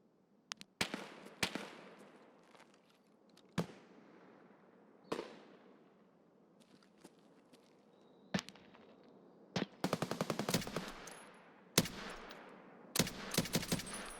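Gunfire from M62 tracer rounds in Escape from Tarkov, heard as sharp, loud shots fired singly and in quick bursts, with gaps between them and tight rapid volleys toward the end.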